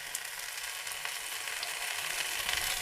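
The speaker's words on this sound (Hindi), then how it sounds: "बिल्कुल खुले में ही इसे अलट पलट के हम सुनहरा होने तक फ्राई करेंगे बैगन को" Brinjal slices frying uncovered on a tawa give a steady, close hiss of sizzling oil with faint crackles, growing slightly louder toward the end, with no voices.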